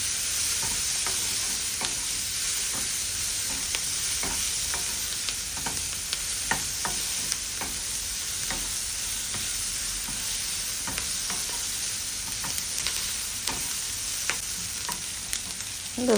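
Capsicum and turmeric are stirred in a frying pan. A constant sizzle runs throughout, with a spatula scraping and tapping against the pan at irregular intervals, and no voices.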